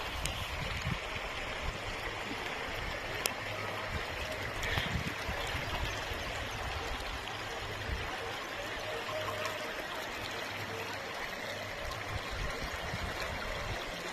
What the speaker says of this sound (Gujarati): માલણ નદી મોટા કુટોડામાં નવા નીર આવેલા છે